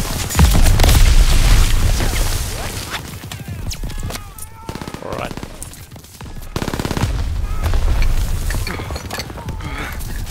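Intense wartime gunfire during a World War II beach landing in a first-person shooter, with sustained machine-gun bursts, rifle shots and heavy explosions roaring loudly and almost continuously, with brief lulls.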